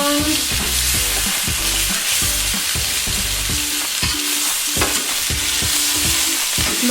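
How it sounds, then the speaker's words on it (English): A Scotch egg fries in a Saladmaster pan, giving a steady, close sizzle with repeated scraping and stirring knocks from a spoon as it is turned. No one speaks. "it's about 8 minutes into cooking the Scotch egg now. I'm going to flip it using my Saladmaster"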